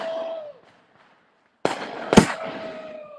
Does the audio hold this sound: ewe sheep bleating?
no